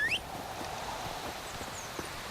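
Hooves of Geralt's horse in The Witcher 3 clop softly and steadily at a walking pace over a constant background wash, faint and fairly distant.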